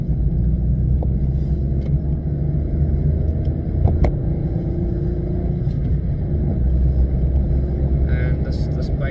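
Constant low road rumble and engine drone inside a Peugeot 107 small hatchback while driving, steady and loud throughout with a few faint clicks and knocks over the top.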